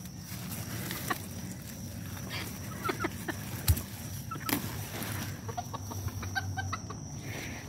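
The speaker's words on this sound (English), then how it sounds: "I'm going to throw it to the chicken in the other chicken pen." Chickens cluck and murmur in a backyard chicken pen after a storm, steady close clucking with occasional sharper calls over a constant outdoor hum.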